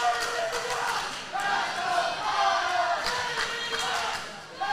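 Wrestling crowd at an IZW 3D Sports Championship match reacting, with rising and falling cheers and shouts from a large audience, fairly distant and sustained, with a commentator's voice under it.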